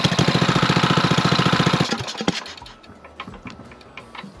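Small engine of a Coleman BT200X minibike running while the turning shaft is filed, a loud rapid chugging for about two seconds that then drops to a rougher, fading, uneven rumble with scraping.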